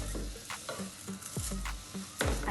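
Spanish brown rice tipped into a hot pan and stirred, with sizzling frying and scraping spoon strokes, a louder rush of grains near the end; no one speaks.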